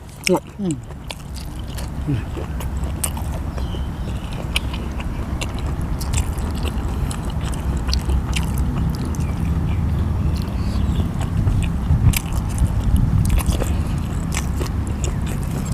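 Close, steady crunchy chewing of green papaya som tam with crisp blood sausage, a dense stream of biting and munching carrying on for the whole stretch, with occasional soft voices underneath.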